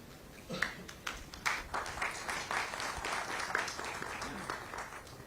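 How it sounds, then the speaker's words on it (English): Audience members at the launch of the NSE Brokers Industry Standards Forum give a soft, somewhat distant round of applause that builds quickly and holds steady for several seconds. "And I think these claps are due to Uttam"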